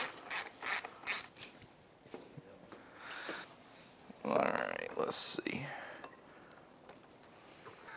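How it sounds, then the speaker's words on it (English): A hand ratchet works bolts out of the reservoir on a Mercury 40HP two-stroke outboard, giving close bursts of rapid clicking pawl strokes, with metallic clanks and handling noises in between and someone talking quietly. "Now let's get these two bolts out of the top, then lift this reservoir out of the way."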